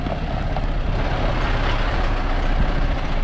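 An overland truck rolls slowly across a narrow bridge in Morocco's Dades Gorge, giving a steady, heavy engine rumble and road noise close by, with no talk.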